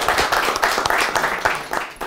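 An audience claps together at an event, a dense, close burst of many hands clapping at once that keeps going without a break through the whole clip.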